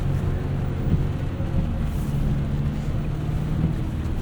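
A 2025 Chevrolet Colorado ZR2 Bison crawls through water on an off-road mud course in 4-low, with a steady, loud low rumble and continuous splashing wash throughout and no voices.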